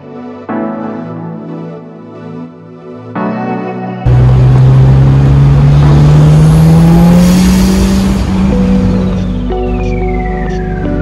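A Mitsubishi Evo engine runs loud and close on its first drive after engine bay reassembly, idling low before the revs climb into a steady, rising drone as the car accelerates away.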